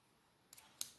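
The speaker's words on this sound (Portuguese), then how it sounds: "Precisamos de uma tesoura grande" Two quick snips from a large craft scissors used for cutting polymer clay, crisp and close in a quiet room, the second cut sharper and louder than the first.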